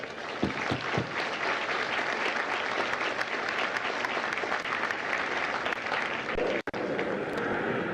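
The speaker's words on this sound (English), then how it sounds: "Ladies and gentlemen, a round of applause for our recruiters and combat instructors." A large crowd claps loudly and steadily at a Marine recruit graduation at MCRD San Diego, honouring the recruiters and combat instructors. The dense applause runs almost without a break and cuts off sharply for a moment near the end.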